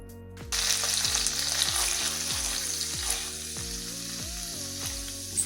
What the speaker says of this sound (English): let's add our green chilies. You can put paste if you like. Let's mix it, and let's add our curry leaves